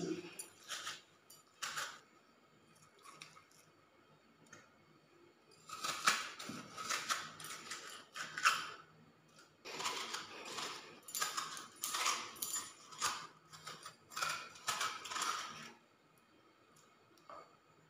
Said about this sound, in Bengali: এবারে এই হাতা দিয়ে তরমুজের পাল্পটা বের করে আমি মিক্সির জারে দিয়ে দিচ্ছি